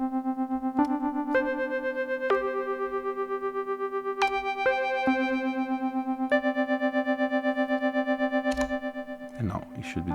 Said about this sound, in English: The stability, as you can hear, it adds these crackly tones.